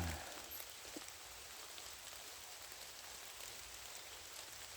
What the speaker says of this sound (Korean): 아, 비가 제법 많이 내리는데